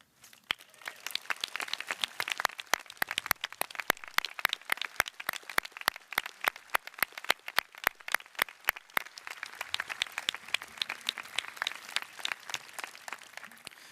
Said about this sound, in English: please stand up and receive your applause